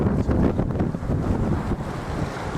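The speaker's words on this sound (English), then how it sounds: "Wind's getting a bit fresher, waves are getting bigger" Strong wind buffets the microphone over rushing waves aboard a sailing boat at sea off the Dover coast, a loud, continuous gusty roar with no talking.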